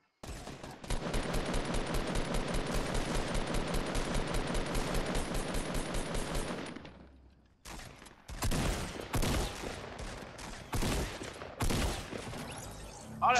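Gunfire in the Fortnite video game, a long unbroken automatic burst of rapid close shots, a brief pause, then further loud volleys and single cracks.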